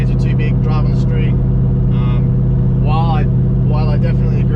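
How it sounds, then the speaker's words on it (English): A Ford BA GT fitted with a GTHO cam cruising at 92 km/h around 1900 RPM, its steady low engine drone and road roar loud and constant, with someone talking over it throughout. "I have cruise control set to 92 k's an hour, 1900 RPM, and the car's handling it fine."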